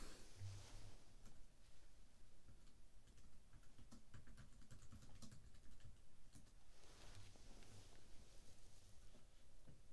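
Fast typing on a computer keyboard, with a steady patter of light clicking keystrokes that runs close and continuous the whole time, alone with no talk.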